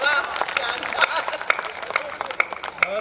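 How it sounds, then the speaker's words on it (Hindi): Audience at a Hindi comedy poetry show (hasya kavi sammelan) clapping, a steady patter of applause with sharp individual claps over crowd murmur. "एक बार जोरदार तालियां बजा दीजिए अकेला जी के लिए।"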